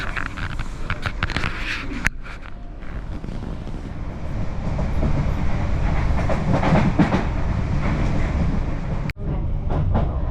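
Interior of a moving passenger train in Ireland, a steady low rumble of wheels on rails with rattles and sharp clicks from the carriage, loud and continuous with no talk.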